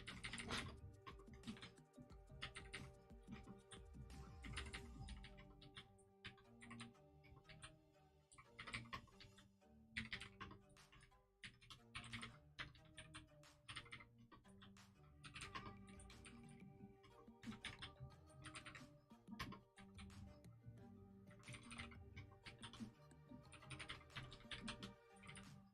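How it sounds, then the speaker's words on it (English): Rapid keystrokes clatter on a computer keyboard, steady bursts of close typing with brief pauses, sustained throughout with no talk. "I only have to type it once."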